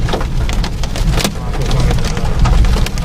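Hailstones pelt a car during a storm on a drive through Chhattisgarh, India, a dense, steady rattle and patter on the body heard from inside the vehicle, loud and continuous.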